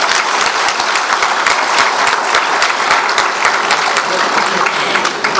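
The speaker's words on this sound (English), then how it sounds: "So a big round of applause for that." Steady, dense applause from a large gala audience, loud and close throughout with many overlapping claps and no pause.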